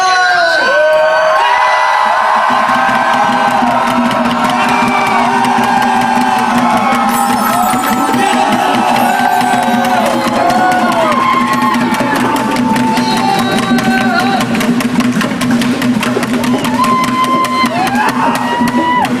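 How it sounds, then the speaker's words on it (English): A crowd at a street march for economic justice screams, whoops and cheers loudly and continuously, many voices overlapping with shouted calls rising above the roar. "I'd just like to get one more scream for everybody here"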